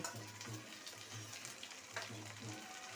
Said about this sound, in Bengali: আদাটাকে ভালো করে কষিয়ে নেবো